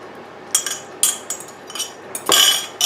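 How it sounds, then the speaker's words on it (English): A utensil clinks against a mixing bowl as wet ingredients for savoury muffins are stirred together, in a few short bright taps and scrapes followed by a longer rattling stir near the end. "Give the liquids a little bit of a mix."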